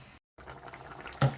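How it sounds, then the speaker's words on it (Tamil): Tin fish curry with potato bubbling in a covered pot on a stove, a steady soft simmering hiss with a brief gap, then a louder burst of liquid noise at the end. "அப்படி அடுப்பில் நல்லா கறி கொதிச்சிட்டுது"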